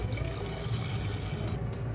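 Faint sloshing and trickling water as toor dal is rinsed by hand in a bowl, steady and close with no talking.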